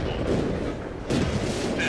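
Tank gunfire in World of Tanks from a T-50-2 battle, with heavy booming cannon shots and rumbling explosions, loud and close, a second blast striking about a second after the first.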